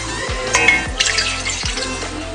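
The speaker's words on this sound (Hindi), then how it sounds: "दूसरी देचकी में हम पानी डाल लेते हैं" Water is poured into a second cooking pot in a kitchen, a close splashing, gurgling stream with a few sharp drops and bursts over a couple of seconds.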